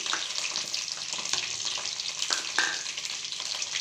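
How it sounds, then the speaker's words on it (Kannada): Onion, grated coconut, ginger and garlic fry in a hot pan with a steady close sizzle and crackle, with occasional scrapes and stirring clicks and no talking. "ಸೊ ಇದನ್ನು ಚೆನ್ನಾಗಿ ಫ್ರೈ ಮಾಡ್ಕೊಳ್ಳಿ."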